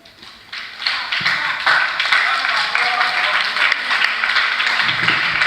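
Audience applause at the Glorious Youth Convention 2022 following a youth group's talk, a dense sustained clapping from a crowd that swells quickly and holds steady for several seconds.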